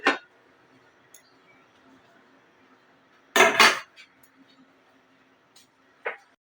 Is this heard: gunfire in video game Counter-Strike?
no